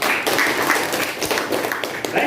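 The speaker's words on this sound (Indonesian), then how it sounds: "Sudah, ya, silakan tepuk tangan dulu." Sustained, close clapping from a small classroom audience during a teacher-training lesson, steady and dense for a couple of seconds with faint voices mixed in.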